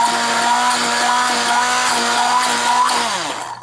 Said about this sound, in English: You just use the hand blender and then you just have to blend this.